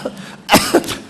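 A preacher mid-sermon imitates a small dry cough with two quick, close, loud coughing bursts in about a second, after a faint breath.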